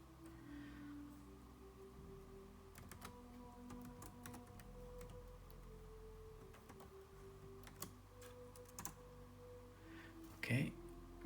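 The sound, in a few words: typing a password on a computer keyboard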